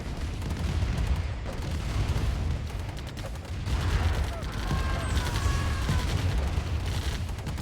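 Tanks fire in a Command & Conquer: Tiberian Dawn tournament match as a dense, continuous barrage of booming shots and explosions, with commentators talking over the battle.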